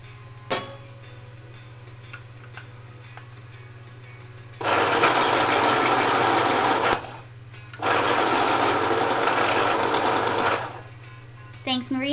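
A colored pencil for drawing a King Charles Cavalier in Polychromos is sharpened in a mechanical sharpener, two loud steady grinding bursts of about two and three seconds, separated by a short pause, with a steady hum underneath.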